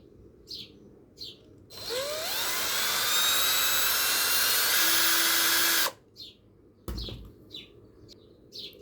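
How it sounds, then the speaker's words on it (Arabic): A power drill bores a hole through the housing of an LED bulb, whining steadily and loudly for about four seconds, with brief handling noises before and after. "كده عملت الثقب اللي اعدي منه الاسلاك بتاعت المفتاح"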